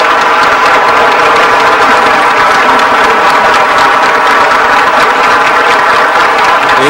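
Sustained, loud applause from a conference audience fills the hall as a steady dense clapping wash with no pauses.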